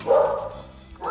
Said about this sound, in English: So sorry for the barking.